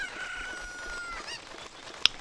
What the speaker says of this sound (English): for now, I'm gonna grab this chicken